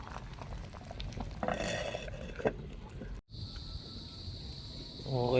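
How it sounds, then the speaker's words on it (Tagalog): A pot of chicken soup bubbles at a strong boil on the stove, with a steady close bubbling and hiss. A brief clatter and a short cut are followed by continued rolling boil. "Ayan na. Lakas na ng kulo."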